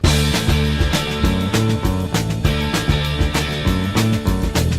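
Punk rock band track with guitar, a thin, compressed guitar tone over driving drums and bass in a steady, loud full-band rhythm.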